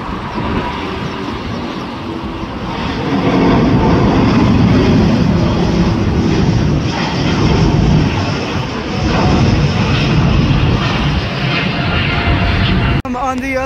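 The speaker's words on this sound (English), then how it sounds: "On the other side of the airport, the Lufthansa A340 from Frankfurt." A Lufthansa Airbus A340 jet from Frankfurt at LAX, its engines giving a loud, steady roar that holds throughout and swells slightly in the middle before cutting off near the end.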